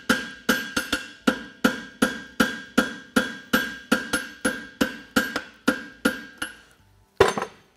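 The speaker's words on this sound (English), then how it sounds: "I'm going to take my crosspeen and localize my mast slot." A crosspeen hammer forges a hot steel mast slot on a Swiss hind shoe in steady, ringing blows, about two per second and close by, then a short pause and one final strike.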